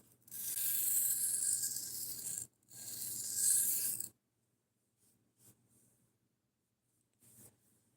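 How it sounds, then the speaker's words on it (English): A knife edge being deburred, with two long, loud rasping strokes up close followed by a few faint scrapes and near quiet. "So now I think we're gonna go for burr removal."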